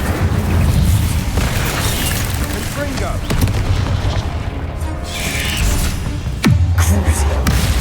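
The Incendio fire spell is cast repeatedly in the Hogwarts Legacy video game, giving loud booming bursts and crackling blasts one after another, with a voice speaking over the effects.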